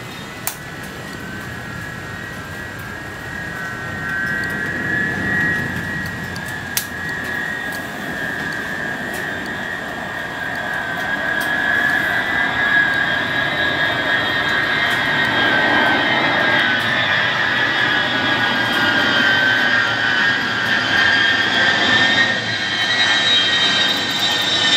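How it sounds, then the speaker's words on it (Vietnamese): A large Russian Ilyushin cargo jet landing at Tan Son Nhat airport on a rainy night, its engines producing a steady, loud roar with a rising whine that swells gradually over the long stretch, with no talking. "chiếc máy bay này đang bước vào hạ cánh từ sân bay của Indonesia về đến sân bay Tân Sơn Nhất"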